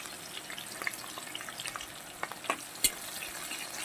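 Onions go into oil already holding fried dried chillies and tempering spices, giving a steady close sizzle broken by light crackles and a few sharp pops, with no talking.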